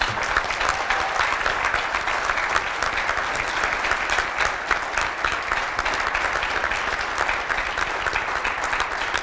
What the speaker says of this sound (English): please give him the deserving round of applause he deserves